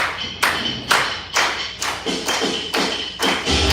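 Sharp hand claps land in a steady on-beat rhythm at a ball, about two per second, loud and close, with nothing else in between.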